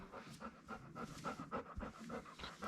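A freshly groomed dog pants quickly and steadily up close, its short breaths rhythmic and unbroken, with no one talking.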